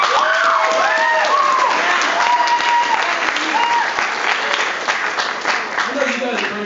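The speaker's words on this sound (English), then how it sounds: "I'd also like to give another round of applause for our amazing leadership that we had this year" Loud, dense applause from a large crowd at a change of command and awards ceremony, with scattered cheers and whoops rising over steady clapping throughout.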